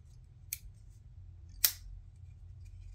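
Two crisp metallic clicks of the small scissors on a titanium-scaled multitool being flipped open, quiet and close, with a faint hum underneath.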